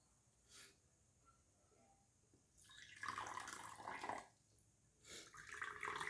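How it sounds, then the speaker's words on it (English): Water pours into small cups in two distinct splashing bursts, the second following a short pause, with light drips and faint room quiet before the pouring begins. "Let us pour some water in each cup."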